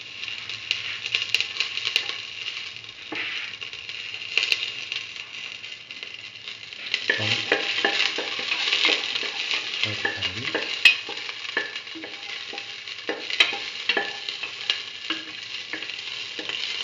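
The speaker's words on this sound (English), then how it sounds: "Now put in the shallots. Let the shallots get heated in oil." Shallots heating in hot oil crackle and sizzle steadily at close range, with occasional clinks and scrapes of stirring and no voices.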